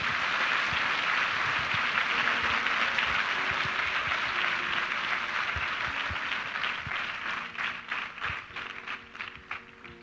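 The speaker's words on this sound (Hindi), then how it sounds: "आइए प्रभु के लिए एक अच्छी ताली बजाएंगे हमसे." A church congregation claps together in loud, sustained applause at a worship service, a dense wash of hands that stays steady for most of the stretch, then thins into scattered, uneven claps as it fades toward the end.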